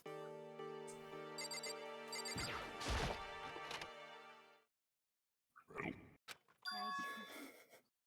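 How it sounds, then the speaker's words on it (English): A doorbell from the Danganronpa video game rings in a bright, sustained peal for a few seconds, then stops. After a short silence come a few scattered, thumping sounds. "sharp sound of the doorbell pierced my sleepy haze and pulled me back to the real world"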